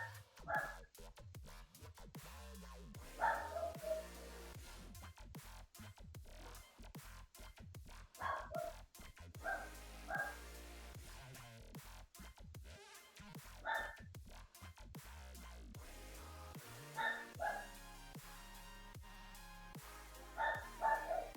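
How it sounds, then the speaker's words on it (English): A dog named Red barks in repeated short bursts, fairly loud and close indoors, with gaps between volleys and a few higher yips mixed in. "Suddenly Red starts barking."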